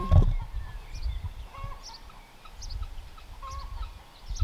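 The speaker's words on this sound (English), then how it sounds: "The guinea fowl just kind of fly over because they're so motivated to come back to where their home is." Guinea fowl call in an off-grid home garden, giving scattered, fairly faint chirping and squawking notes from a little distance over a low, rumbling background.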